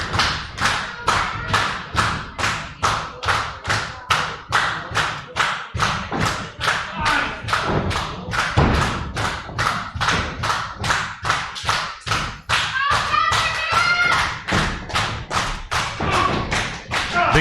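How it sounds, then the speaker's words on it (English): Repeated heavy thuds of wrestlers' clubbing blows and bodies hitting the ring mat in a match between Big Country and Nefarious Creedmore, steady and loud, with crowd noise and a commentator's voice underneath. "Big clubbing blow here."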